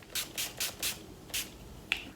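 NYX Dewy Finish Long Lasting Setting Spray mists onto a face in five short, soft hissing pumps, evenly spaced, followed by a faint click, close and quiet with no talk.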